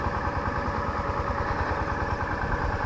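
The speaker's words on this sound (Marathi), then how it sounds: "इकडे इंजिन चालू केलं, त्याचा थोडा आवाज येत असेल" A pesticide-spraying engine runs steadily in a mango orchard, giving a continuous, fairly loud chugging idle with an even, rapid low thumping rhythm and no voices.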